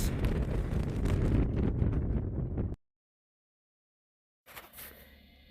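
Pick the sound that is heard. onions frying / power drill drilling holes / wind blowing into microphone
wind blowing into microphone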